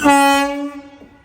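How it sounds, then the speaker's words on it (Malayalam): A train horn sounds as a train pulls into Ayodhya Dham railway station: one loud, sustained blast that fades over about a second, with a faint knock of rolling stock near the end. "നമുക്ക് പോകാനുള്ള ട്രെയിൻ ഇതാ ഇവിടത്തോട്ട് വരികയാണ്."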